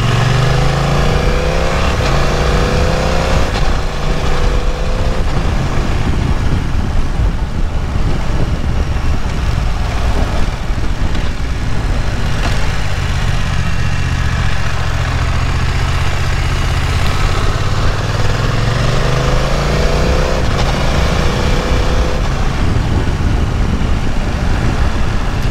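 A BMW F900XR motorcycle engine drones continuously while riding, loud and near, with rising and falling revs through gear changes under heavy wind rush.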